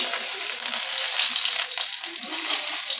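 Chopped onions frying in mustard oil in a wok give a steady, close, bright sizzle that holds evenly for about three seconds, with faint stirring beneath.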